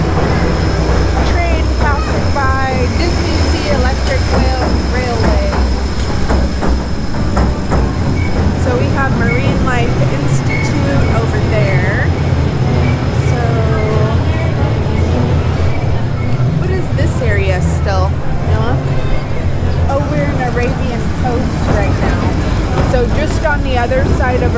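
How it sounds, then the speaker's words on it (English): The DisneySea Electric Railway train at Tokyo DisneySea rumbles steadily past, close and continuous, while a crowd chatters and calls out over it. "There's a train passing by DisneySea Electric Railway."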